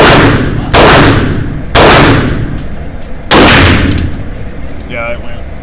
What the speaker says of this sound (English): I'll shoot it in the far right hand top